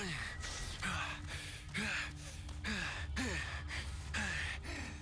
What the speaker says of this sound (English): Running, panting.